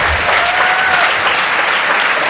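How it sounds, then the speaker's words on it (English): A dinner audience at a roundtable event breaks into a loud, dense round of applause, continuous hand-clapping from many people filling the whole moment without pause. "Let's give him another big round of applause."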